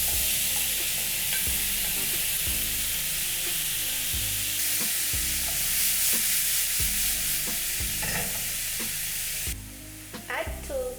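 Garlic and diced tomatoes fry in a hot pan, a steady loud sizzle with regular stirring strokes scraping through it about once a second, close up and with no talk.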